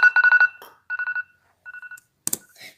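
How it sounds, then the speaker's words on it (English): An iPhone alarm sounds as groups of rapid, bright electronic beeps in quick bursts with short gaps, followed by a brief clatter near the end. "This time it's the iPhone alarm."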